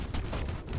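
Rapid gunfire from a pair of dual-wielded guns in a video game, a dense continuous burst of shots filling the whole short moment at moderate level.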